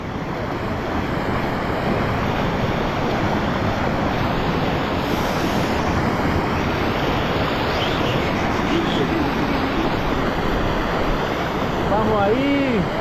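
Steady, loud broadband rush of a swollen river at the source of the Tigre river in the Llanganates, Tungurahua, Ecuador, continuous and close throughout, with brief voices near the end.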